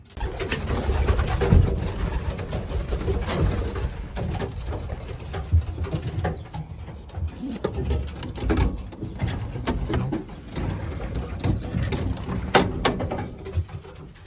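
Racing pigeons coo steadily outdoors in a continuous, fairly close murmur, with patter and rustling in the background and no talking.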